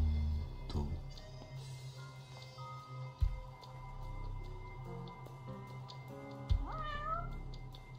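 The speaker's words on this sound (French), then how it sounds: "Il doit vraiment pas être loin le chat parce que je l'entends vraiment bien." A cat meows repeatedly in the game Judgment, fairly close, with a couple of sharp thumps and a steady low hum underneath.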